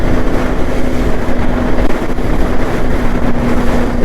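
A KTM Duke 390 sport bike engine runs while riding through the gears, a loud steady drone with a constant hum, heavily buffeted by wind rushing over the microphone.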